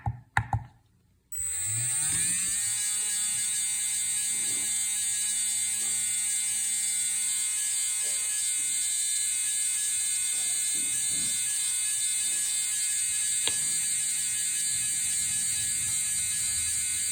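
A Fantom Helix RS 21.5T motor spins on a motor analyzer. After a short clatter and a pause, it settles into a steady, loud electric whine with bright overtones that holds unchanged, broken only by a few faint clicks.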